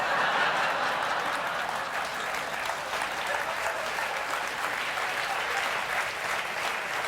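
Studio audience applause at a late-night talk show, a dense, steady wash of clapping with a few chuckles mixed in, loud and sustained from start to finish.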